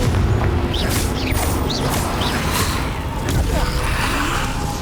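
Confringo fire spell blasts in Hogwarts Legacy on Nintendo Switch, a dense run of booming, crackling bursts over a constant loud rumble of combat effects, with several whooshing impacts spread across the stretch.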